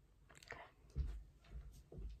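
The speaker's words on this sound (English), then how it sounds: "Ignore my chewing if it's loud, I'm sorry." Close, quiet chewing and biting, about five soft crunchy bites spread evenly over two seconds, with no talking and little else behind them.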